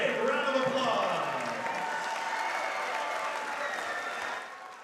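A crowd at the Collinsville vs. Quincy championship applauds steadily, a dense wash of clapping that stays loud and fades slightly at the end, with a voice over it.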